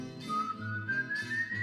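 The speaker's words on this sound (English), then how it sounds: "he would just sit around watching them and whistling" A boy whistles a smooth, slowly rising tune, clear and close, with nobody speaking.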